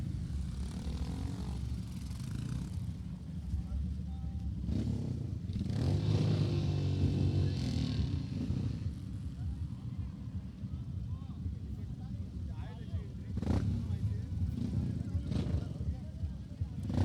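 Royal Enfield Himalayan motorcycles lining up at the start of a dirt track race, a steady low engine rumble from several idling bikes that swells at times, under a voice talking close by.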